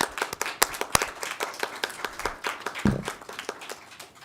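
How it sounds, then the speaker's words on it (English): A small group claps in a state Senate committee room, a brief round of distinct, close hand claps at uneven intervals, with no talk over it. "if you could all give a quick round of applause to Linda, Suzanne Spence, Ms. Heidi Clarkson"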